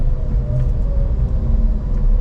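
Car slowing to a full stop on the handbrake after downshifting, a steady low engine and road rumble running evenly throughout with no talk.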